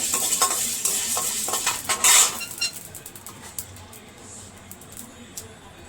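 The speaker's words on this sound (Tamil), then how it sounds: "தனியா வந்து தனியாக வறுத்துக்கிறாங்க." Coriander seeds are dry roasted in a pan for a pepper curry, giving a soft, continuous rattle and scrape of stirring with one brief louder clatter near the middle.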